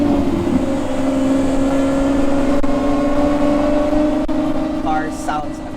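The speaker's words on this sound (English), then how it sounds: "Car sounds amazing, guys." A modified Ferrari F12 with its V12 engine and a Kline Innovation Inconel exhaust holds a loud, steady droning tone up close, with a voice speaking faintly beneath it toward the end.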